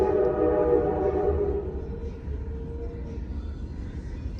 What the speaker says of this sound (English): you can hear the trains going by.